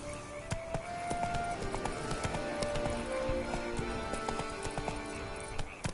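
Hooves clip-clop in a steady galloping rhythm from a horse in The Witcher 3, mixed with game sounds and tonal music, moderately loud and continuous throughout.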